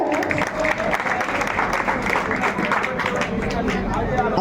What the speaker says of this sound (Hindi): ये जोरदार ताली बजाए।